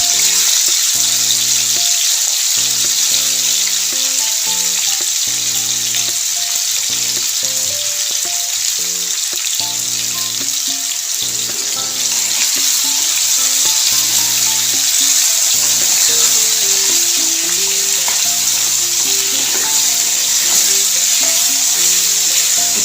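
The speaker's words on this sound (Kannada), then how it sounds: "ಇದನ್ನ ಹಾಕಿ ಸ್ವಲ್ಪ ಒಂದು 2 ನಿಮಿಷ ಫ್ರೈ ಮಾಡ್ಕೊಳ್ಳೋಣ" Thick slices of raw banana fry in hot oil, a steady dense sizzle that continues unbroken throughout, with soft background music and no voices.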